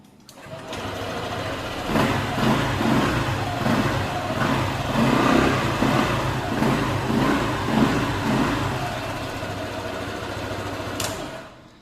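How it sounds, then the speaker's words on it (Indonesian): A Honda ADV scooter with a jammed smartkey ignition knob starts up and its small engine runs for about ten seconds, a close, steady buzzing idle with light revving pulses, then cuts off. "Dan motor bisa hidup ini."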